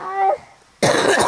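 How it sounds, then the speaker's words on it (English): A short voiced sound is followed by a pause, then one harsh, close-up cough. "I tried to cough the shit out"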